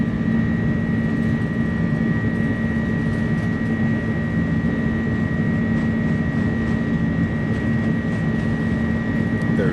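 Airbus A300 airliner engines at takeoff power in a flight simulator: a constant, loud, low engine roar with steady high whining tones, unbroken throughout, with no talk heard.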